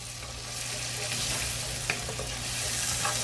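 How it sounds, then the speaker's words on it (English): Chopped whole onion sautéing in about a third of a stick of melted butter in a big pan, a steady close sizzle with soft crackles and one light utensil tap, no voices. "Let's saute that up a bit"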